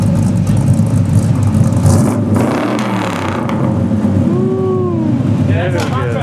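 Truck engine working hard while four-wheeling up a snowy hill in a snowstorm, a steady loud drone throughout with rising whines near the end; voices are heard over it.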